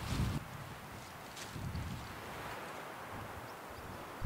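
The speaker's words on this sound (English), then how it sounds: "but the wind is freezing cold" Cold wind gusting on an exposed mountain ridge in the Rawah Wilderness, a low buffeting rumble against the microphone with soft airy hiss, rising and easing in gusts, no voices.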